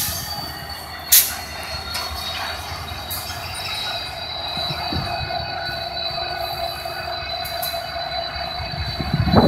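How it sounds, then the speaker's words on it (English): A mainline freight train hauled by two SD70 diesel locomotives rolls past steadily, with a continuous rumble, high metallic wheel squeal and a few sharp clanks, close by and fairly loud. "two SD70s on a mainline freight train today is actually pretty rare."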